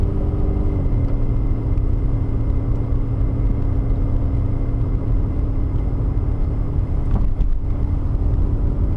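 A car accelerating up to 40 km/h on a winter night during a driving lesson, heard from inside as a steady low engine rumble and road noise with a brief rattle near the end, and no talk.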